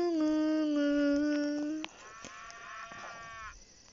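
A voice imitates a cow mooing, one long loud drawn-out moo followed by a higher, wavering moo that fades.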